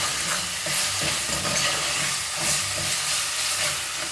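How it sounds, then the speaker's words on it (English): Tomato paste fries in a pan for beef pilau, giving a steady close sizzle and hiss with soft stirring scrapes throughout. "Fry your tomato paste, guys."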